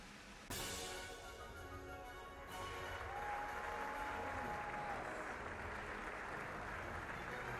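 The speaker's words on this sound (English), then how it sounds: "the rehearsal ended to thunderous applause" Thunderous applause at the close of a play rehearsal in the video game Trails Beyond the Horizon, a dense wash of clapping that starts abruptly, swells after a couple of seconds and holds steady under a faint sustained musical tone.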